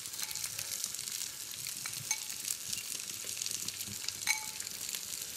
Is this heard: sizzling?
yes